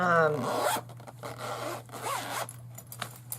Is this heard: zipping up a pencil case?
yes